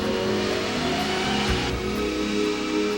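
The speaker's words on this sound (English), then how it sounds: "This car is going 30 miles an hour." A car drives at 30 miles an hour toward a crash test barrier, its engine a steady, loud, close roar with a brief surge midway and continuous road noise throughout.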